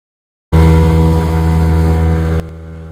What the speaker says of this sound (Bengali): এবারে উঠলাম স্পিড বোটে।